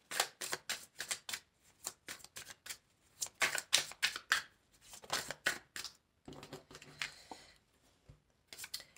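Tarot cards riffle and slap in repeated quick bursts of shuffling, close and crisp, with short pauses between runs and a softer rustle as cards are drawn near the end.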